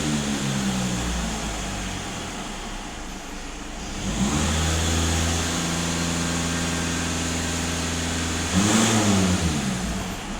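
A Skoda Octavia Scout engine held at about 2,500 rpm during DPF and EGR cleaning, a steady mid-pitched drone with two brief rises in revs, close and constant.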